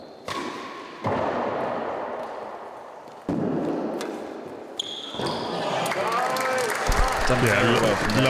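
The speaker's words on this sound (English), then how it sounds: "Crowd enjoyed that one, I feel." Crowd at a real tennis match applauds a point, bursts of clapping and cheering building toward the end amid thuds of the ball and court noise.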